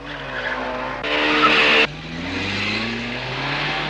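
A Trabant 601 car corners hard, its tyres squealing in a loud sustained screech over a steady engine drone, with a sharp bright burst of skidding in the middle.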